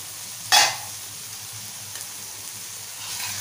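Prawn masala on a tava, with one sharp stir-scrape near the start, then a steady low sizzle and frying hiss that swells slightly toward the end.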